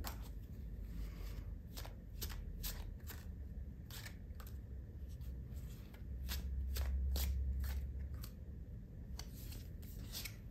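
Tarot cards are shuffled and drawn, crisp repeated riffling snaps and flicks close up at an irregular rhythm over a low background hum, with no voices.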